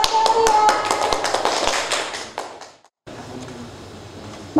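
Brief classroom applause during a school teaching competition, a few seconds of quick, dense hand taps, fairly close and loud, fading out before a short silence and then room noise.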